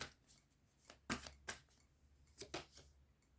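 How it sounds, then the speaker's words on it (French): Playing cards being laid down on a table, giving a few soft, close slaps and flicks spaced irregularly over a quiet background. "Alors, on va poser maintenant les cartes."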